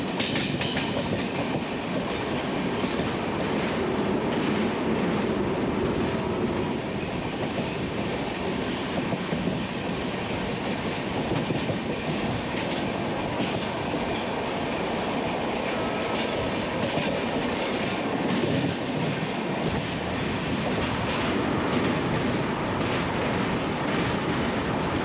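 Rajdhani Express train running steadily on rails in India, a loud continuous rumble with rail clatter throughout, heard from inside the carriage with no talking.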